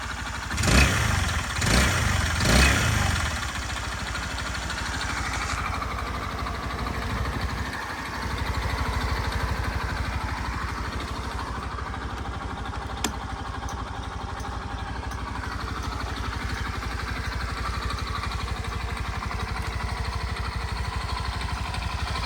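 A 2018 Suzuki Address V125 scooter engine runs at a steady, fairly quiet idle after a few louder bumps and handling noises at the start, with no talk.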